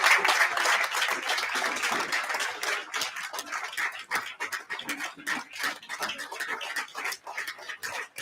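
An audience at a launch event claps for a retiring colleague, a dense, close patter of many hands that starts loud and gradually thins and softens toward the end.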